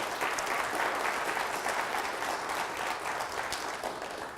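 A conference audience applauds the event organisers, a dense, steady wash of clapping from many hands that carries evenly throughout and eases off slightly at the end.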